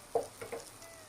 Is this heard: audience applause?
no